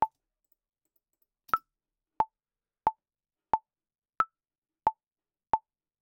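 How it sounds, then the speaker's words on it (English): Sharp, short metronome clicks from music sequencing software, eight evenly spaced ticks at a steady beat after a brief gap, two of them pitched higher as accent clicks, clean and alone. "You can hear a click for every one of these light grey lines where there's a number at the top."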